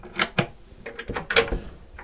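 Big storage drawer on a Princess V40 yacht sliding open and shut, a few close, sharp wooden knocks and thumps in quick succession.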